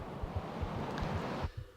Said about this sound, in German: Hui, da pfeift einem der Wind um die Ohren.